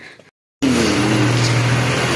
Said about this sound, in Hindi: ये गाड़ी बाहर निकल रही है